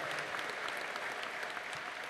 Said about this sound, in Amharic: እልልታና ጭብጨባ ለጌታ